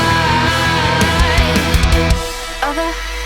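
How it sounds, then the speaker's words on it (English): Heavy metal breakdown closing a cinematic track, loud chugging guitars, pounding drums and bass jumping between octaves, dense and driving before it cuts to a sustained low tone. "I just wanted this absolute metal just breakdown here at the end"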